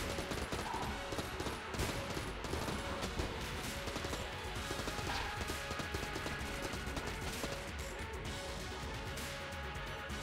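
An AK rifle in Enter the Gungeon fires continuously in a dense, relentless barrage of rapid shots mixed with crashing impacts, loud and unbroken for the whole stretch, with no speech over it.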